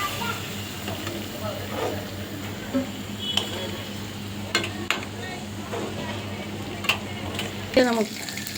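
Bilimbi (cheema puli) pieces for pickle fry in hot oil with a steady sizzle, broken by scattered clinks and scrapes of a utensil, with a voice heard intermittently.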